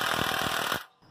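A Carlisle impact wrench runs in a loud, close burst of rapid hammering rattles, then cuts off abruptly near the end, leaving near silence.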